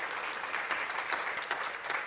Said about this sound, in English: Might I invite us just to give Andrew a big round of applause just for really framing the conversation for